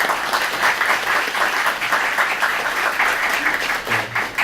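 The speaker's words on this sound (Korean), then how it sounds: "박수로 맞이해 주시기 바랍니다." Audience at a Korean lecture on container-based cloud native computing applauds to welcome the professor, a loud, dense, continuous round of clapping filling the room with no talk over it.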